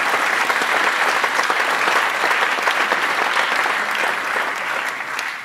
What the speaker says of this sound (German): Da kann ein Applaus hin